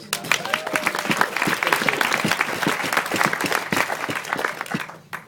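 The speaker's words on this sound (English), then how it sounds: "Maybe we can have a round of applause for that." Wedding guests break into brisk, lively applause that stays dense and close for about five seconds before it ends abruptly.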